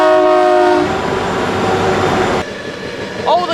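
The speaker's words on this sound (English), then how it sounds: "got a big coal train coming past us right now" A big coal train passes on a rail line through coal country in New South Wales, loud and close, with a sustained horn blast over rumbling wheels and wagons that continue clattering after the horn cuts off.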